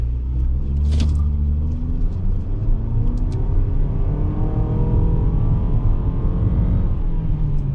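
A 2022 Mitsubishi RVR all-wheel-drive SUV pulls away hard from a traffic light, its engine rumbling and climbing in pitch through several seconds, with a faint, brief tire chirp near the start.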